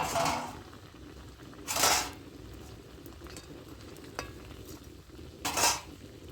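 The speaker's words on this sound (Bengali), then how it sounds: "এবার আমি মাছ ভাজাগুলোও দিয়ে দিলাম" Fried carp pieces go into a pan of kohlrabi and are stirred, giving a quiet, low sizzle broken by a few short scraping bursts of the spatula against the pan.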